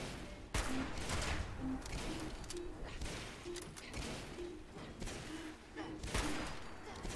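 Rapid bursts of gunfire in Fallout 76, repeated sharp shots spread across several seconds at moderate distance, with occasional game tones between them.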